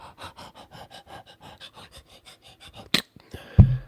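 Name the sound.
person panting heavily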